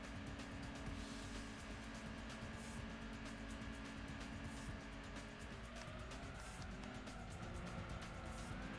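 A Suzuki Cappuccino K car engine in Gran Turismo 2 on the PlayStation hums steadily at moderate volume, with tonal engine lines shifting in pitch and brief tire-like squeals, no talk.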